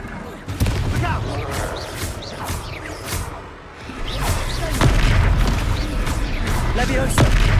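A Confringo fire spell explodes in the Hogwarts Legacy video game, with booming blasts over dense, noisy battle sounds, and a voice talks through the action.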